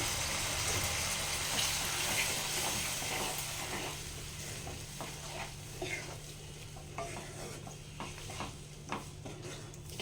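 Tomato and spices sautéing in a pan as a spoon stirs and scrapes them: a steady close sizzle with repeated scraping strokes, no voices.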